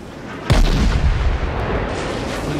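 Warship artillery salvo booms out in World of Warships during a naval battle, a loud sharp blast followed by a sustained rumbling roar that slowly fades, with no talk.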